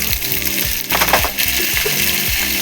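Pieces of pointed gourd fry in oil with bay leaves and whole cumin, giving a steady bright sizzle under a rhythmic, looping background music track.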